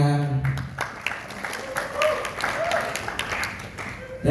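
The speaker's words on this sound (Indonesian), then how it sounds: "Kita beri tepuk tangannya." Audience clapping at an Indonesian quiz-style battle event, moderate and steady applause with voices and cheers mixed in throughout, not especially loud.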